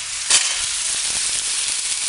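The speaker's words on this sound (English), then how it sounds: "Need a little bit more oil, so put the oil in. Now I'll put in the artichoke." Artichokes fry in oil with a steady, bright sizzle close up, a brief louder crackle flaring near the start before settling into an even hiss with faint stirring ticks.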